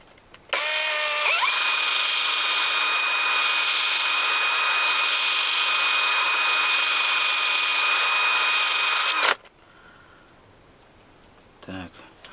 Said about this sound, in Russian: Здесь такая насадка на шуруповерт и просто липучка.